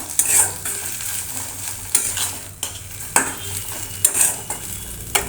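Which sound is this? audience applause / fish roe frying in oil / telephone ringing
fish roe frying in oil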